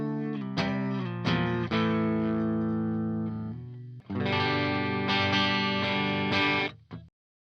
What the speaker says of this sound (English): right now we're on the channel 1 of amp 1, which is voiced to sound like a plexi